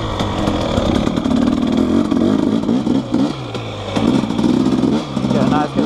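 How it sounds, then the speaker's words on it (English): Dirt bike engine revving hard on a trail during first-gear wheelie attempts, rising and falling throttle blips close to the rider, with a voice talking briefly over the engine. "right here looks like a decent spot to do the 5 try wheelie thing"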